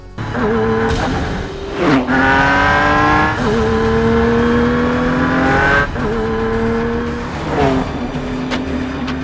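A Ford GT Mk IV supercar lapping Calabogie track, its engine loud and close, rising in pitch through repeated accelerations and gear changes, with brief dips between pulls.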